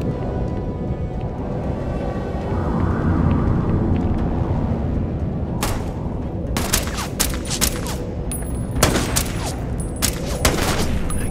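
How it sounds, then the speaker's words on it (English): Rapid bursts of gunfire in the space game Starfield rattle over a rumbling background, with sharp repeated shots clustering toward the end; no one speaks. "I can see his gunfire, but I can't see him."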